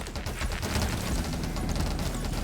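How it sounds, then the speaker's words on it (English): Rapid shotgun fire in the game 20 Minutes Till Dawn, a dense, relentless barrage of loud overlapping blasts with no gaps, sustained from start to finish. "I just like being able to shoot 1 billion bullets out."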